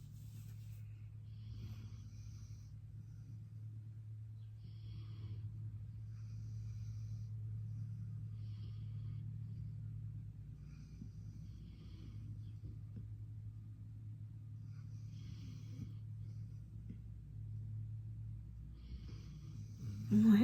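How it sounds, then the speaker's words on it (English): Loud snoring from two sleepers, a low continuous rumble with faint breathy snorts in an otherwise quiet room. "They're both snoring so loud."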